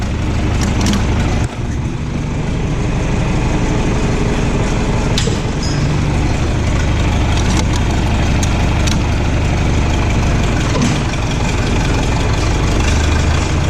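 A John Deere 3020 tractor engine idling with a rough, ugly exhaust, a loud continuous low rumble close by with occasional clanks, steady throughout.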